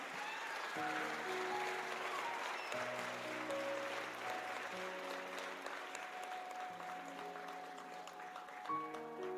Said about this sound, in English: A big round of applause for Dr. Hamad, please